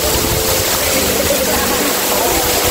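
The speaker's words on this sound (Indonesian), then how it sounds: "Nah, ini ada air terjun kedua." Water crashes down at the second waterfall of Curug Badak in Tasikmalaya, a loud, constant broadband roar that fills the whole clip without a break.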